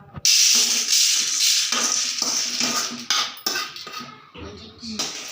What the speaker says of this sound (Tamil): இதையும் நம்ம இந்த பிளேட்டுக்கு ட்ரான்ஸ்ஃபர் பண்ணிக்கலாம்